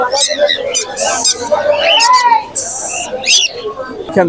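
Sharp, loud screeches from a pair of sun conure parrots ring out close by in several bursts at the Mirpur bird market, mixed with someone speaking nearby.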